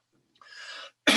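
A single sharp cough rings out close to the microphone at the end of a public housing trust fund meeting, following a quieter throat-clearing rasp and a short pause.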